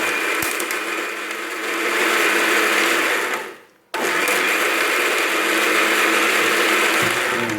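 An electric blender whirs loudly and steadily while blending a Thai grilled pork dipping sauce, cuts out briefly midway, then restarts and keeps running at full speed.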